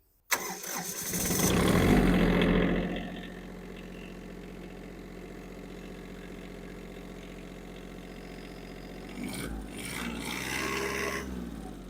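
A used Yanmar AF-170 mini tractor's diesel engine cranks and catches with a loud rising rumble, then settles into a steady idle chugging close by.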